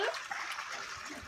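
Water flows and trickles at a swimming pool, a light, steady splashing wash heard fairly close, with faint background activity.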